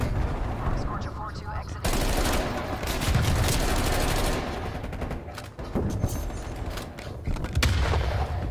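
Bullfrog SMG from Black Ops Cold War firing in long, rapid automatic bursts, loud and dense with brief pauses between strings of shots, mixed with game effects and a faint voice now and then.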